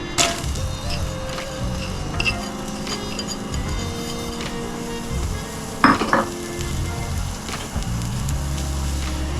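Onions for a one-pot kielbasa stew hit hot fat in a pot, giving a continuous close sizzle with occasional utensil knocks and one sharper clatter partway through.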